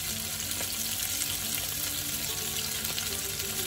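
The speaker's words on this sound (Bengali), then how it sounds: "প্রায় 15 মিনিট ভাজা ভাজা হওয়ার পর আমার কাবাবগুলো হয়ে গেছে" Chicken green shashlik kebabs frying in a pan, a steady dense sizzle and crackle of hot oil running without pause, close and fairly loud, with no voices.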